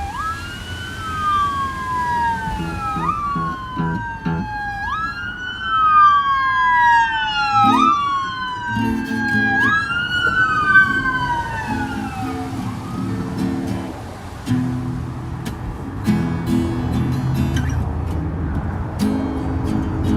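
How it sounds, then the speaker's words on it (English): Wailing sirens rise and fall repeatedly, loud and close, with rumbling traffic underneath in Malibu, Los Angeles; the sweeping tones fade after about twelve seconds, leaving engine noise. "The sirens are throwing me off."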